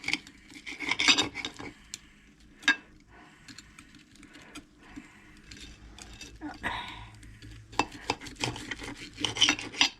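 A knife sawing through a cooked top sirloin steak on a plate, with rasping strokes and occasional clinks of cutlery, heard alongside a person talking.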